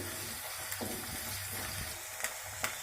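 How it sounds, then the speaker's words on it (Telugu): Chicken frying in a pan, a steady low sizzle running throughout with a few faint clinks and stirring sounds, no voices. "ఇది కొంచెం ఫ్రై అవ్వాలండి"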